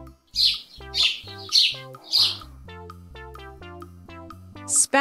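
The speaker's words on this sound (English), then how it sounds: "Sparrow." A sparrow chirps in a series of four quick, bright chirps followed by a pause and one more near the end, set against gentle background music.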